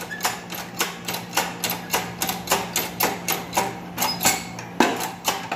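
Hammer blows on the front wheel hub of an Opel Corsa during a bearing replacement, a steady series of sharp metallic strikes, roughly two or three per second, close and loud, with no talking.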